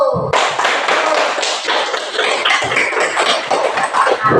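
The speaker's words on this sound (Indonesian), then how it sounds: "kita tepuk tangan dulu" A classroom of children clapping together after a drawing activity, quick overlapping hand claps and taps filling the space with a few thumps, close and busy throughout.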